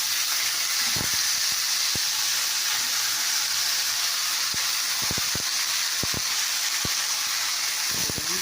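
Shredded cabbage fries in oil seasoned with five-spice seeds and bay leaf, giving a steady hissing sizzle throughout. Scattered low knocks of a utensil against the pan punctuate it, and no one speaks.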